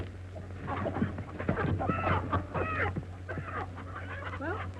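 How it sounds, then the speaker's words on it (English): Chickens cluck and squawk in a farmyard, several birds calling in quick, overlapping bursts over a low steady hum, fairly close and moderately loud, with no voices. "he can't hurt them chickens"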